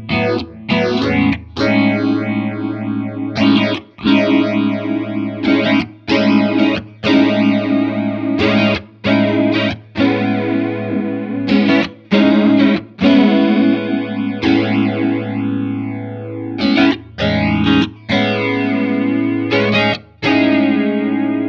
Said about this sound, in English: really audition a wide range of modulation sounds with one simple knob turn